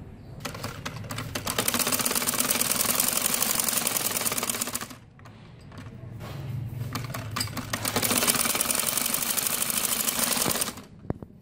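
A sewing machine stitches lace onto the hem of a salwar mohri in two rapid, rattling runs of a few seconds each, separated by a short pause, close and loud with no voices.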